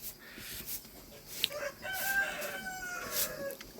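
A rooster crows in a rural Nepali village yard, a fairly close, drawn-out cock-a-doodle-doo over a steady outdoor background, with some clucking from fowl around it.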